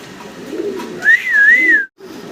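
A pair of black Danish pigeons coo nearby, a clear rising and falling call standing out over low murmuring background noise, then a brief silence.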